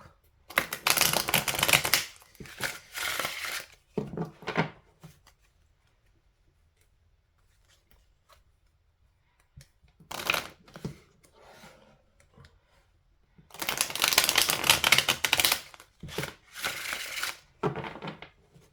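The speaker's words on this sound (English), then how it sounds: "you have some fairly smooth shuffles" Bursts of rapid papery riffling and flicking come in several rounds, separated by quiet pauses, close by and fairly loud, as tarot cards are shuffled.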